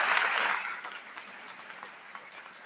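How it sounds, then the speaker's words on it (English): Audience at a spring college commencement for a school of liberal arts, clapping in a brief burst that starts full and quickly thins out to scattered claps. "Can we please give Professor Shaniza another round of applause, please, as we welcome the graduates forward."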